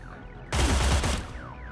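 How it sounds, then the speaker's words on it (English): Burst of rapid gunfire in the video game Cyber Knights: Flashpoint during an ambush, a loud dense volley lasting about half a second, then fading into quieter game ambience. "anyone in that ring would hear the gunfire"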